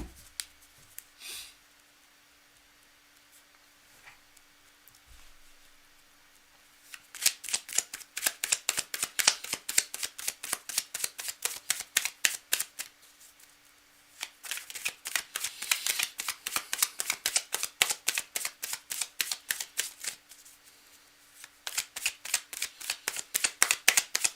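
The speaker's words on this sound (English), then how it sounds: "Okay, we're well shuffled." Tarot cards being riffle-shuffled in quick, steady bursts of crisp flutter, close and fairly loud, with short pauses between runs and no talking.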